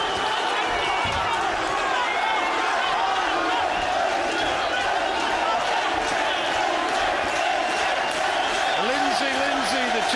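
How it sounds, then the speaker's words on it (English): A boxing crowd at a British 126lb title fight between Paul Appleby and Martin Lindsay chants and roars continuously through a famous old hall, a dense reverberant wall of voices beneath a commentator's speech. "the chants reverberate around this famous old hall"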